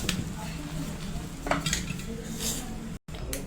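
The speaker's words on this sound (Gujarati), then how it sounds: "આપણે આ રીતે સારી રીતે હલાવીને આ રીતે બેટર તૈયાર કરી લેવાનું છે." Pakora batter is stirred in a bowl with a utensil that scrapes and clinks steadily against the sides. The sound is close, with a brief dropout near the end.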